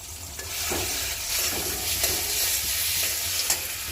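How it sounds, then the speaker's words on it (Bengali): Ground cumin paste hits hot oil in a pan and fries with a steady, loud sizzle, broken by a few scraping stirs, close and continuous throughout. "তো জিরা বাটা দিয়ে দিলাম।"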